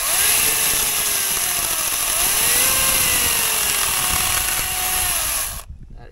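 A Makita power drill runs continuously with a loud whirring whine whose pitch rises and falls as the load changes, then cuts off abruptly near the end.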